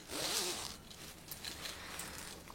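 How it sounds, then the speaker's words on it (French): A zipper is drawn along a fabric pouch, a close crisp rasp that starts strong and continues in a few softer strokes. "Elle est nickel, hein, la fermeture éclair."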